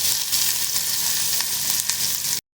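Green chilies hit hot oil with mustard seeds and urad dal, giving a loud, continuous crackling sizzle with small pops that cuts off suddenly at the end.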